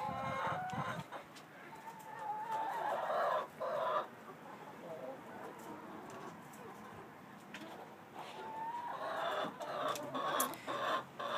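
Baby chickens cluck and murmur steadily at moderate distance in a nursery pen, with occasional louder squawks rising above the flock's chatter.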